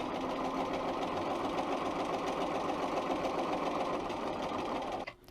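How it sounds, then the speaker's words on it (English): A Bernina 335 sewing machine stitches along fabric in a fast, steady mechanical whir for about five seconds, then stops abruptly. "I'm going to sew along there."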